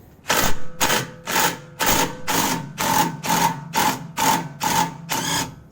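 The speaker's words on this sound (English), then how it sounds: "I can use my impact driver to get it out" An impact driver on a 2013 Nissan Altima removing a rear strut bolt hammers in about ten quick, evenly spaced rattling bursts, loud and close with no talking.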